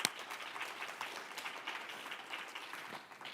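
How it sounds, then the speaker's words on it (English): Audience applause at a Teacher of the Year students' choice awards ceremony, a dense patter of many hands clapping at moderate volume, fading slightly toward the end. "So give yourselves a big round of applause."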